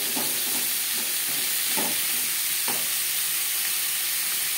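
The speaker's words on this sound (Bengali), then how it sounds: "লবণ হলুদ পেঁপের সাথে বেশ ভালো করে মিক্স করে দেবো।" Papaya with salt and turmeric being stirred in a hot pan, a constant loud sizzle with a few soft scraping strokes of the spoon at intervals.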